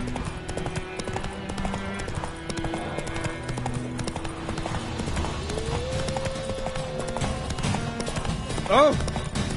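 Hooves of Roach, Geralt's horse in The Witcher 3, clip-clop at a steady walking rhythm under game music and voices, with a brief louder burst near the end.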